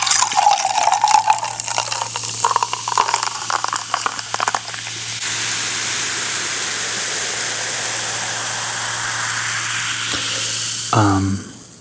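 Pepsi Zero Sugar is poured and fizzes with a bright, continuous hiss that holds steady for several seconds before a final splash and clink end it, with no one talking.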